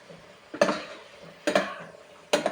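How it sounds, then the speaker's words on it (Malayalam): A spoon stirs macaroni in a pan, making three distinct scraping, clinking strokes spaced about a second apart over a low background sizzle. "ഇളക്കിക്കൊണ്ടിരിക്കണ"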